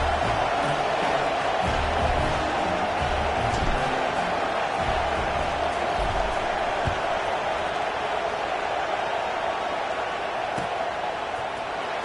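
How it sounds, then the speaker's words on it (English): A stadium crowd in a college football video game, Ole Miss against Georgia, makes a steady, dense roar of murmuring fans that holds at an even level throughout with no distinct cheers. "boy, did that last drive quiet this crowd"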